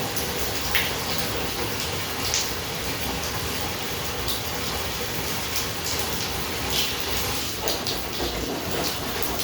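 Bubble bath water swished around by hand in a filled bathtub, a steady close wash of sloshing and splashing that continues evenly throughout with no talking.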